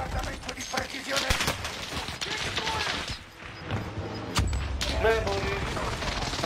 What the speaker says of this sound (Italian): Bombardamento di precisione.